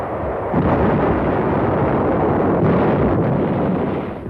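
Artillery fire from shore batteries during the Battle of Inchon, heard as a continuous loud, dense rumble of explosions and blasts with no clear gaps, steady throughout.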